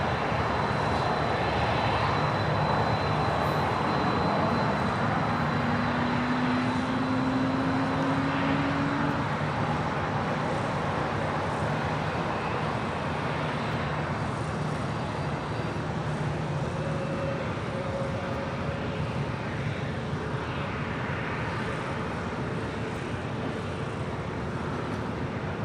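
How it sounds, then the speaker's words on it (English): An Atlas Air Boeing 747-400 freighter, flight 4548 from Anchorage, fifteen years old, roars steadily at LAX, a broad continuous engine rumble with a faint rising whine, no voices. "this is Atlas Air, Flight 4548, committed from Anchorage"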